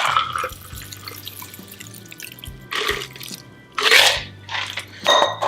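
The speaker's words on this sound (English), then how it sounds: "let's strain it into our cocktail glass." Shaken rum cocktail with papaya-ginger shrub poured through a strainer into a cocktail glass, with trickling liquid and splashes in short bursts, plus a few clinks of ice and metal, close and fairly loud.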